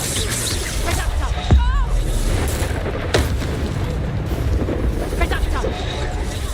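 Spell blasts from the Predacto curse in the wizarding video game Hogwarts Legacy, a few heavy booming impacts scattered through a noisy battle, with a voice talking alongside.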